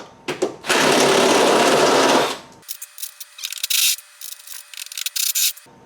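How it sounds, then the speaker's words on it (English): A power drill with a unibit step bit bores out a hole for a bolt while fitting a DrawTite trailer hitch to a Chevrolet HHR. One long, loud grinding burst is followed by a quieter motor whine and several short, intermittent cutting bursts. "I'm gonna drill it out until that bolt fits"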